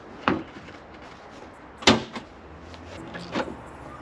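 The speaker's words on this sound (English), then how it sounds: "Next job is to pop the bonnet" A Toyota Prado bonnet is released and lifted, with three separate clunks and thuds, the middle one loudest, close by and spaced a second or so apart.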